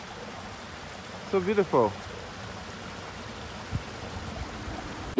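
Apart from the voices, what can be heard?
water stream flowing between houses in Switzerland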